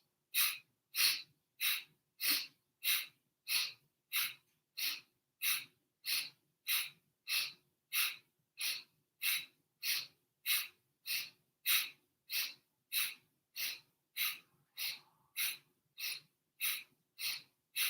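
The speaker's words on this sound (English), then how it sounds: "the breath is going to be that kind of sniff and throw breath in time with the movement of your arms" Rapid, rhythmic sniff-and-throw breathing in a Kundalini yoga class, about twenty-seven sharp nasal breaths evenly paced at roughly one and a half per second, close and clear with no talking.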